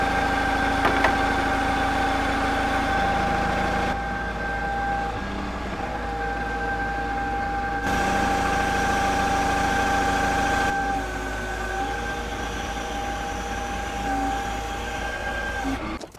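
A telehandler engine runs steadily at a construction site for a barndominium build, giving a constant low drone with a high, steady whine that shifts slightly in level now and then.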